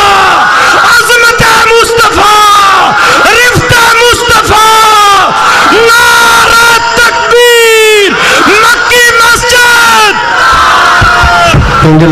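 A large crowd at a Ramadan religious gathering answers with a loud, rhythmic chanted slogan, many voices shouting together in repeated surges, close and overwhelming.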